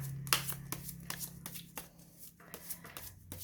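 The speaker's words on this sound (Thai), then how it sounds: "จะเปิดไพ่ทั้งหมด 10ใบก่อนนะคะแบบเซลติกคลอสนะคะ" Tarot and oracle cards being shuffled and dealt out for a ten-card Celtic Cross love reading, a series of close, sharp card flicks and soft slaps.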